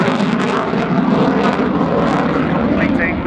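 Boeing F/A-18 Super Hornet jet in a flying display at RIAT, a loud, rough roar of engines on afterburner sweeping past overhead with a broad rumbling wash, steady and close.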